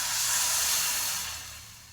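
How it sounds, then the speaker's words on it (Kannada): Water poured into a hot pan while making tomato sambar gives a loud hiss of steam and spray at first, then eases and fades over a couple of seconds. "ನೀರನ್ನ ಆ್ಯಡ್ ಮಾಡ್ತಿದ್ದೀನಿ."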